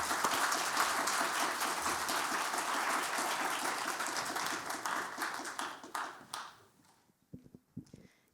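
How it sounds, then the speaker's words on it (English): Audience applause for a moderator at an evening event on Kogei, the Japanese craft tradition: a dense, loud burst of clapping from a seated crowd that holds steady for several seconds, then thins into a few scattered claps and dies away. "Please, a round of applause for our moderator,"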